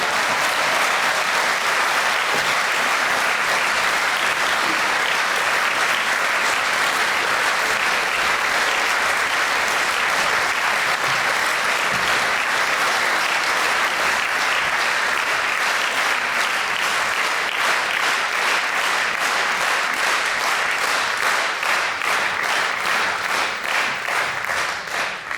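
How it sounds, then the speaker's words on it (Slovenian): Sustained, dense applause from a concert audience after a retirees' society women's and men's choir performance, loud and even throughout, breaking into rhythmic unison clapping near the end. "jaz pa mislim, da zaslužijo še en velik aplavz"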